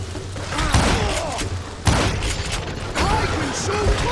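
Gunfire and explosive bangs from the Call of Juarez: Gunslinger video game, with sharp loud shots near 0.8, 1.9 and 3.9 seconds over a dense, busy action soundtrack.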